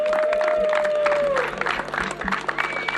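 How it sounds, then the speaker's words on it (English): Applause from the crowd at a men's U-19 rugby championship final between Jamaica and USA South, moderate and scattered clapping that thins into uneven bursts partway through, with a faint tone and some background noise. "A big round of applause for all of yourselves and everyone who made this tournament possible"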